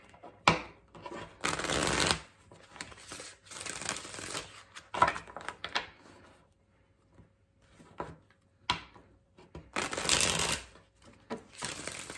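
Several bursts of cards being riffled and shuffled, with brief pauses and soft handling sounds in between, close up.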